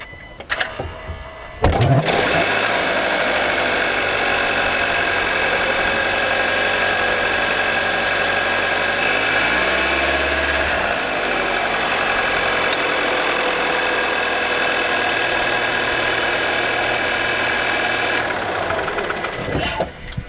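A 2024 VW Tiguan 1.5 eTSI 130 PS petrol engine starts and settles into a steady, close idle, a continuous rumbling hum with a brief rev partway through.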